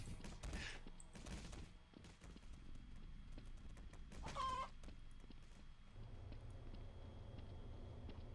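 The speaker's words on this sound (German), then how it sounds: "Ja, ein Hühnchen und das ist nicht normal." A chicken clucks in a dark German Trouble in Terrorist Town round of Garry's Mod, its short calls mixed among game noises and hoof-like clip-clop sounds, with a brief high squawk midway.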